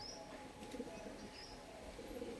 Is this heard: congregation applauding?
no